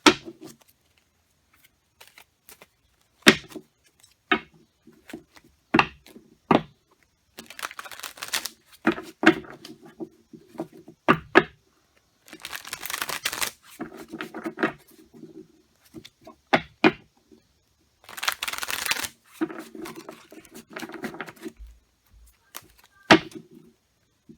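Tarot cards being shuffled in repeated bursts of riffling and snapping, with short pauses between, close and crisp against near silence.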